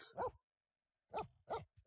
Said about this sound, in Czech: Ukaž, jak štěkáš.